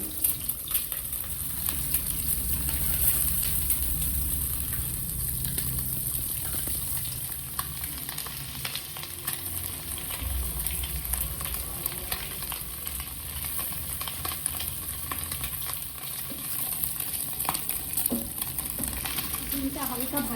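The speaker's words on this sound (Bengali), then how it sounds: "ডিমগুলো এখন আমি হালকা করে ভেজে নেব" Eggs frying in white oil make a steady, dense hiss that continues without a break, close to the pan, with soft stirring movements underneath.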